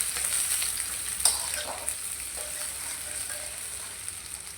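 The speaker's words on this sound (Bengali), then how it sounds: "পেঁয়াজটা এখন ভালো করে ভেজে নেব।" Onions fry in hot oil with a soft, even sizzle, broken by a few light clinks and scrapes of stirring.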